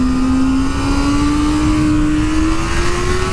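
A 2024 Kawasaki Ninja ZX-6R 600 sport bike howls on a race track, its engine note holding high and climbing steadily under load, loud and close with a constant wind rush behind it.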